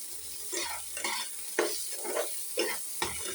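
Tomato pieces are stirred and sizzle in a frying pan, giving soft, steady frying noise with repeated scraping stir strokes about every half second, close and fairly quiet.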